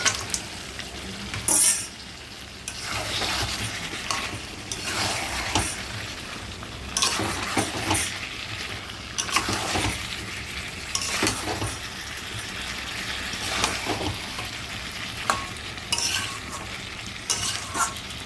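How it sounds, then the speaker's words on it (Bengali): Goat meat dropped into a frying spice paste sizzles steadily, with repeated scraping and clanking of a spoon against the pot as it is stirred, close and uninterrupted by talk. "এবার আমার অনেকটা মশলা কষানো হয়ে গেছে, এবার আমি মাংসগুলোকে ছেড়ে দিলাম"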